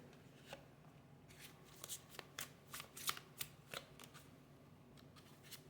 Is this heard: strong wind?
no